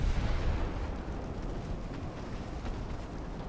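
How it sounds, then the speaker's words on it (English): A torpedo detonates in the naval warfare game Ultimate Admiral Dreadnoughts, heard as a broad, rumbling low roar that fills the space evenly for a few seconds before easing off slightly. "Torpedo detonation."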